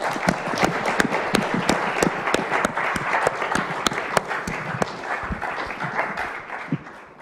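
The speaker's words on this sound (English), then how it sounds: "I think we can finish with a big round of applause for Rob" An audience applauds a speaker at the close of a panel talk on designing for 2050, sustained clapping with sharp individual claps standing out over the crowd's dense patter, easing off near the end.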